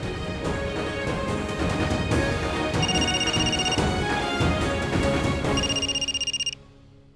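A telephone rings with a steady electronic trill over dense background music, the ring pattern repeating twice before cutting off abruptly.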